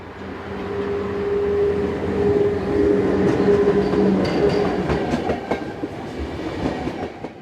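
An SBB electric train, unit 460-052, pulls away from a station bound for Visp, its steady rolling rumble with rhythmic clickety-clack of wheels over rail joints growing louder, with no talking.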